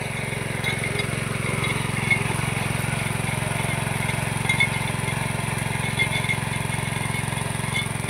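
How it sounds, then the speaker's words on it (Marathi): A power weeder machine running under trees in a lemon orchard, its engine putting out a steady, close, low droning hum that holds even throughout with only slight wavering. "या बागेमध्ये या मशीनचा आपण वापर करत आहे आणि अशा पद्धतीने हे मशीन चांगलं काम करतो आहे"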